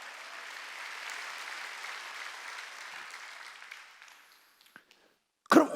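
A congregation at a Korean church's Wednesday worship service claps together: steady, full applause for about four seconds that thins out and stops, followed by a short silence and a sudden loud sound at the end.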